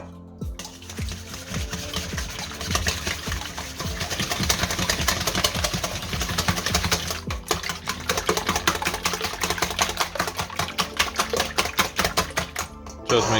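Six eggs being mixed: a steady, fast clatter of a utensil against a bowl, continuous and fairly loud, with no talking.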